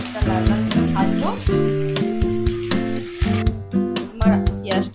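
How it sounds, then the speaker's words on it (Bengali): Onions fry in hot oil for a Bengali chicken kosha, giving a continuous close sizzle with stirring scrapes and utensil knocks that thins out near the end. "পেঁয়াজটা লাল লাল করে ভাজবো।"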